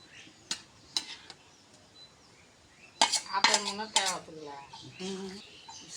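A metal lid clinks onto a cooking pot of hilsa curry with pointed gourd and jackfruit seeds, giving a few sharp close taps, followed by a voice speaking nearby.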